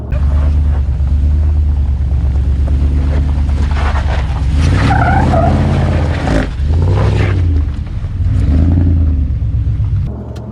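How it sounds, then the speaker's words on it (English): A vehicle heading off-road on a trail at Hackett Gulch, its engine loud and close throughout, rising and falling in pitch as it revs and shifts, over constant rumble and tire noise. "I'm going off-roading."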